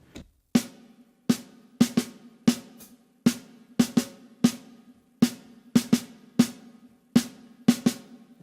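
Jazz snare played with the left hand alone for one bar, a sparse syncopated pattern of crisp, close hits with ringing decay, some strikes paired in quick doubles, steady and unaccompanied with no cymbals or voices.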